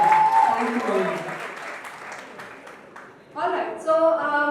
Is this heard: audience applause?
yes